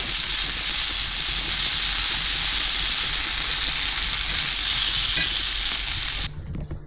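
Zucchini grilling in a pan with olive oil, salt and pepper, giving a loud, steady, close sizzle and hiss that keeps going and then drops off sharply near the end.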